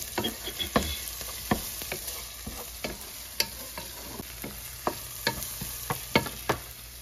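Browned onions fry with ginger garlic paste in a pan for a palak matar paneer sabji, giving a steady close sizzle broken by regular scraping stirs of a spoon against the pan.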